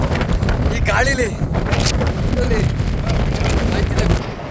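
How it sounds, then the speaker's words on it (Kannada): Strong wind buffeting the microphone on a hilltop at Mullayanagiri near Chikkamagaluru, a loud rough continuous rumble with gusts, and people talking and calling over it. "ಈ ಗಾಳಿಲಿ"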